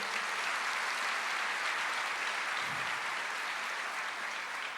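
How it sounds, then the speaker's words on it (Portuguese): A church congregation applauds during a sermon, a steady, dense wash of many hands clapping that holds evenly at moderate loudness throughout, with no voices rising above it. "Você pode aplaudir o Senhor?"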